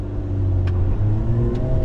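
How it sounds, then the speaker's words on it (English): A manual car pulls away in first gear, its engine giving a steady, loud low rumble and drone heard from inside the cabin, with no speech over it. "I'm gonna start putting gas down as I release the clutch"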